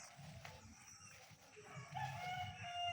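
A rooster crows in the distance on a small farm with goats, faint against a low background murmur, with a longer drawn-out crow near the end.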